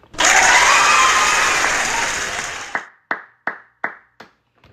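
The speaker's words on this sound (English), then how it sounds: "So I guess we can give him a round of applause with that." A studio audience breaks into a dense burst of applause that swells quickly, holds for a couple of seconds and then fades, ending in a handful of sharp, separate claps.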